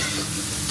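Beef brisket stir-frying in a hot wok, a dense continuous sizzle with stirring, steady and close, with no talking.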